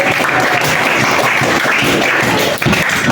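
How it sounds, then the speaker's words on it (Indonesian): Students in a school classroom applaud their teacher, a loud, dense wash of clapping from the whole group that carries on steadily throughout without a pause. "Tepuk tangan dulu untuk ibu."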